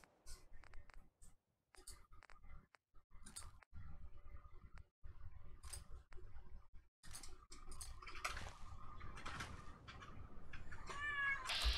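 A cat and a person trade repeated meows indoors, the human voice imitating the cat. The calls come in short, irregular bursts at close range, growing louder toward the end.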